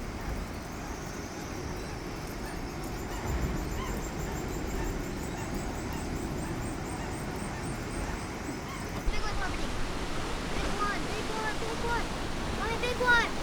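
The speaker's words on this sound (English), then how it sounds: "a hole in the rocks allowing the waves to blow up through and spout into the air" Pacific surf surges and crashes through Thor's Well, a rock hole on the Oregon coast, a continuous rushing wash with a louder burst partway through, with faint bird calls over it.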